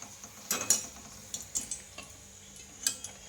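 Puris, crisp palak puris, fry in hot oil with a faint, steady sizzle broken by a few sharp metallic taps and scrapes of a utensil at irregular moments.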